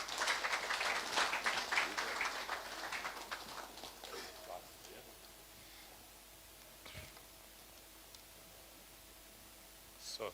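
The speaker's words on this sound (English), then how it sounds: "as you can clap for them as they come" An audience at a book launch in Nairobi claps for a family coming forward. The applause is loud and busy for about four seconds, then fades to a faint murmur of voices.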